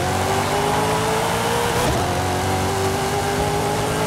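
Revving engine of a Chevrolet Impala Super Sport with a 1,000-horsepower drag tune and 22 pounds of boost in Forza Horizon 5, roaring steadily loud through the launch and holding its rising harmonic drone, with no talk over it.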